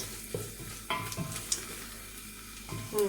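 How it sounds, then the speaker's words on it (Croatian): Steady sizzle of frying in a pan while making white soup with dumplings, with a few stirring clatters and brief louder bursts over continuous crackle, close and moderate in level. "Ovo se super prži, ostavljamo još minut, dva i zatim dodamo vodu."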